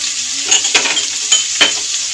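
Carrots and beans stir-fry in a pan for mixed vegetable moong dal, a bright steady sizzle with several quick scraping stirs of a spatula.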